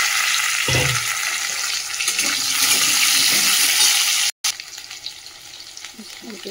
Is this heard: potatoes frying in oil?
yes